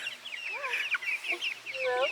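Meat chickens being moved outdoors into a tractor pen cluck and peep close by in a busy, overlapping flock chorus, with a person's voice briefly audible underneath.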